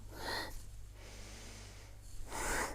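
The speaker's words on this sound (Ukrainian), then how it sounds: "Дихай завжди носом." A person breathes in through the nose during a morning yoga practice, two soft, airy inhalations close up with a quiet pause between them, and no speech.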